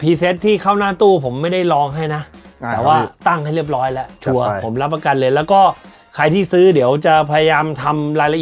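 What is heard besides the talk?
No everyday noise stands out behind the speech.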